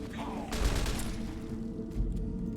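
A burst of rapid gunfire in the video game Fallout: New Vegas, clustered shots near the half-second mark with a few fainter cracks later, set against steady ambient game sound.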